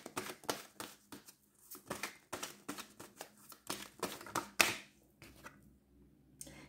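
Tarot cards are shuffled and drawn in quick, crisp bursts of papery slaps and flicks, close and fairly faint, with brief pauses between.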